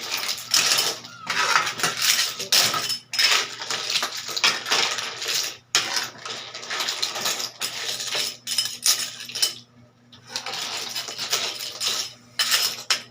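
A spatula scrapes and clinks repeatedly against a pan while moringa pods and tomato are stirred, a steady close scraping rhythm with brief pauses.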